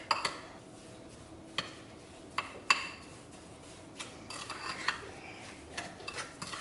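Spoon stirring lemon oil into a homemade hibiscus face scrub in a small bowl, giving faint scraping clinks against the dish with a few sharper taps, quiet and close, no talking.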